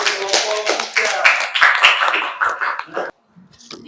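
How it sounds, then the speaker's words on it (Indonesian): A class claps for a group during a teaching practice session, an uneven patter of hands mixed with voices. It stops abruptly near the end, leaving a few faint sounds. "kita berikan tepuk tangan lagi untuk kelompok"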